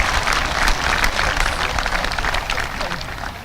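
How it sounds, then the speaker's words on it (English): Loud, dense applause from a crowd at a high school commencement, continuous clapping close by for a few seconds. "a round of applause for the graduating class of 2016."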